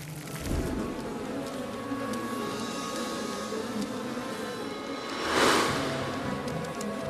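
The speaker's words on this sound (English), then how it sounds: "The Queen and her bees finally start tending to their hive." Bees tend their hive with a continuous, fairly soft droning hum of many wings, steady throughout with a brief swell of louder buzzing toward the end.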